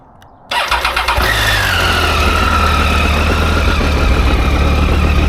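A Triumph Tiger 800 motorcycle engine cranks and fires up after a brief quiet moment, then settles into a steady, close, loud idle with a low throbbing rumble.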